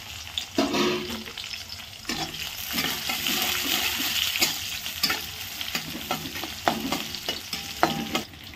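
Chillies being dropped into a pan of hot oil and fried, a loud continuous sizzle with repeated scraping and stirring strokes of a spatula close up, no voices.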